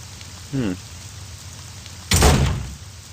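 Soft drizzling rain falls in the horror game Forest of Drizzling Rain, a steady faint hiss broken by a short voice-like cry and then a brief louder thump of rain or impact.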